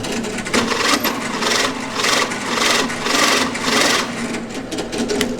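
A drill press bit pecks into a hole in wood, with a rapid buzzing whir that rises and falls in short, regular bursts, about one every second, loud and close.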